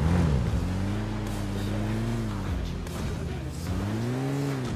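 Car engine in PUBG Mobile drives at a steady hum with a slowly rising and falling pitch, running continuously and fairly loud, with no voices over it.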